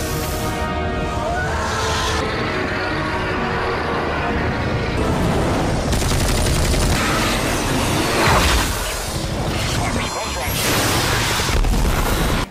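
Military helicopters fire missiles at a giant serpent in a monster movie, a dense, loud barrage of booms, blasts and mechanical roar under someone narrating throughout.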